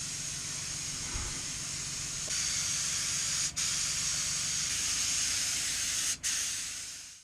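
Steady broadband hiss of a spray gun laying a top coat of paint onto a Series Land Rover during a full restoration, continuous and close with two brief breaks near the end.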